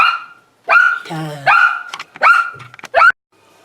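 Female dog barking indoors, several loud close barks in a quick uneven series with yips between them, no talk.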